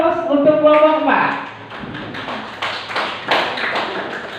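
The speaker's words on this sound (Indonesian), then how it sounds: "kita beri aplaus untuk kelompok 4" A short burst of clapping from a classroom group of Indonesian teacher-training participants, fairly close and a few seconds long, following speech.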